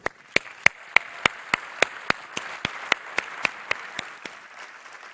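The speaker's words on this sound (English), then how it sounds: "Let's give a final round of applause for all the winners, the judges, and everyone else who made this terrific program possible." Clapping from an awards ceremony audience at a waste industry congress business meeting, heard as a steady rhythmic run of sharp, evenly spaced claps over a low wash of crowd noise and room ambience.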